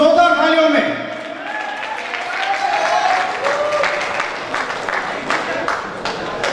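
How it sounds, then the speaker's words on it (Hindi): Loud applause from an audience at a stage event in Saudi Arabia as a guest is welcomed on stage, steady clapping over several seconds with a sustained musical tone and a voice cutting through early on. "बहुत जोरदार तालियों में।"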